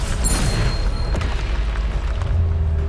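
A Bombarda blasting spell detonates in Hogwarts Legacy, a deep booming explosion with a rumbling low-end swell that builds again near the end, loud and continuous with no talk over it.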